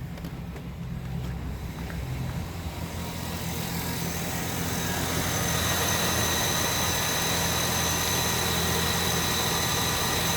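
Electric cooling fan motors on a Chevy/GMC truck still running after shutdown, a steady whirring hum with low droning rumble that grows slightly louder and more even over time.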